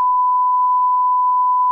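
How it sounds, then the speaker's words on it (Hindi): A censor beep masks spoken words: one steady, loud pure tone holds unbroken for nearly two seconds with no voice audible beneath it. "ये मैं आपको बीप करके मैं बीप कर दूंगी।"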